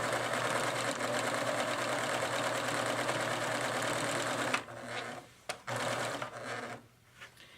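A Pfaff sewing machine with its IDT dual top-feed system stitches at a steady fast rhythm, humming and rattling close by, then slows and stops in short starts near the end.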